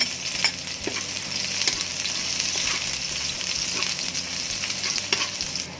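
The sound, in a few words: garlic and onion frying in hot oil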